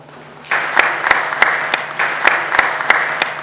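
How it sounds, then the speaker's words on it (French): Audience applause fills an awards ceremony hall, a steady broadband wash of clapping that starts abruptly and carries on loudly with repeated sharp accents, over a low constant hum. "Est-ce que vous pouvez applaudir vous-même?"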